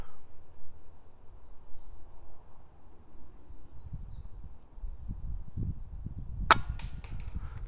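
Single sharp rifle shot fired outdoors while hunting, a loud close crack near the end that follows quiet rustling and handling noise, with no one speaking.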